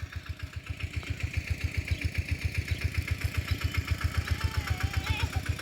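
A steady, rhythmic thumping engine chugs loudly and continuously, like a slow-running diesel tractor, with faint voices in the background.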